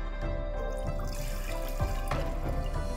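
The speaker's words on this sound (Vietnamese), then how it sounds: "Rồi chúng ta cho 1 lít nước vô." One litre of water poured into a pot to start a broth for Teochew steamed fish, a steady close splashing trickle with a few louder sloshes near the end.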